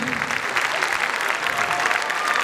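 An audience in a concert hall in Lyon applauds a dance ensemble, steady dense clapping filling the room throughout, loud and continuous with a faint voice underneath.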